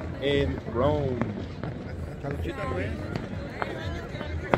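Fireworks popping during New Year's celebrations in Rome, faint scattered bangs in the distance beneath close talk and cheering as people toast.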